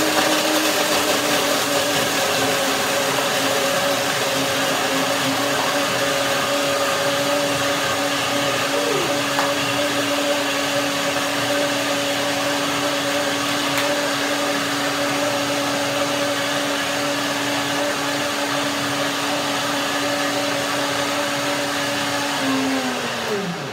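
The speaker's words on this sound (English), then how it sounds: "So I blend this now in the high speed blender." A high-speed blender runs continuously at a steady loud whine while blending frozen strawberries, holding an even drone for about twenty seconds before winding down at the end.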